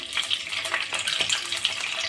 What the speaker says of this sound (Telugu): కాజు వేసినాం, ఇవి బ్రౌన్ కలర్ వచ్చేంత వరకు వేపినా.